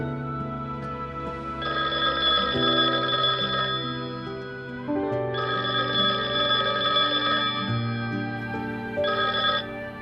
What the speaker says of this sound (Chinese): 家里的电话常常无人接听。